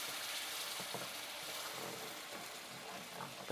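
Flour is stirred into a hot pan for shepherd's pie, giving a faint, even sizzle with soft scraping strokes.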